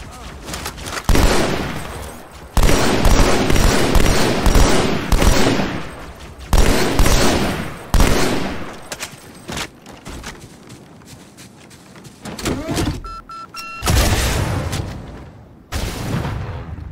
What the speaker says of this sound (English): You hold the fire button and shoot.